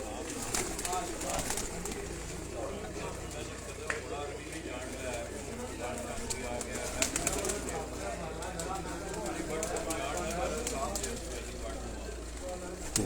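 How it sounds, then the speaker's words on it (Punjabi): Pigeons being readied for the 2023 flying season coo softly and repeatedly in a loft, their low calls mixed with rustling and faint background voices throughout. "ਜੇਠ 2023 ਦੇ ਵਾਸਤੇ ਤਿਆਰ ਹੋ ਰਹੇ ਨੇ ਜੀ ਇਹ ਕਬੂਤਰ ਜੀ"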